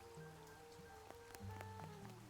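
Rain in the video game Duck Detective: The Secret Salami patters quietly and steadily, with scattered drips and soft tonal game sounds behind it and no speech.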